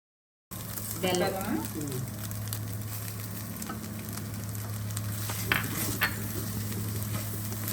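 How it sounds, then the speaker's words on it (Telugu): Coconut and jaggery filling stirred in a pan, with a steady close sizzle of cooking, a low hum beneath it and occasional scraping and clinking of the spoon. "ఇది దగ్గరికి అయిపోయేంత వరకు కలుపుకుంటాం"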